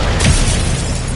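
An Incendio fire spell cast in Hogwarts Legacy erupts as a loud, dense whoosh of flame with a low rumbling burst near the start, then a steady roaring blaze filling the short moment.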